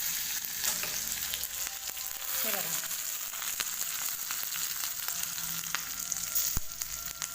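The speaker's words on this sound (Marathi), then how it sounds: "आता ही फोडणी आपण सुरळीच्या वड्यांवर टाकणार आहोत" Steady crackling sizzle of a tempering of spices and curry leaves hitting hot oil, close and continuous, with a few sharp pops and a brief metallic scrape partway through.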